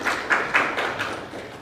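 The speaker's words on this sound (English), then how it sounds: "So let's give them a clap." Audience applause for students at Zetech University, a brief patter of claps with a few louder slaps, moderately distant in a hall.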